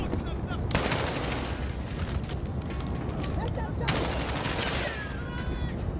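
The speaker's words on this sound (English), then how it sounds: "Yeah, that was an incendiary shotgun." An incendiary shotgun firing in Call of Duty: Modern Warfare, two loud blasts a few seconds apart over a constant roar of battle noise, with some talk.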